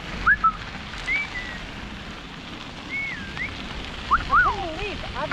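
Bird on a river trail whistling in short rising and looping phrases, repeated several times at moderate distance over steady outdoor background.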